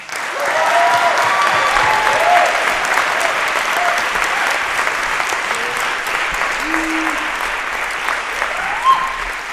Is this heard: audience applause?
yes